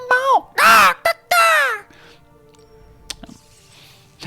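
A bird creature in the Magic Arena card game gives several loud, close caws in quick succession, followed by faint clicks and quiet game sounds.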